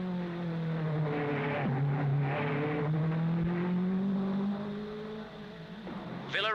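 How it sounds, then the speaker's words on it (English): 1955 Monaco Grand Prix race cars, including a Lancia, roar past in a loud sustained engine drone with rising and falling pitch and a brief rev surge near the end; no talk. "Villarese's Lancia skids wildly outside the Hotel de Paris, but he manages to sort things out and continue."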